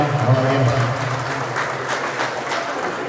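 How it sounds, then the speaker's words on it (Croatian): At a hometown community gathering, an audience breaks into loud, dense applause for the evening's orchestra, following a brief burst of a voice at the start. "Može jedan aplauz za ove sjajne ljude."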